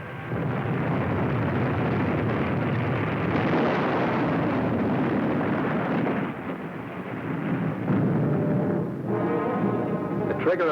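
A heavy depth charge explosion against a wartime submarine, a sustained deep rumbling roar that stays loud for most of the stretch, then thins briefly before a rippling tail, with no voices.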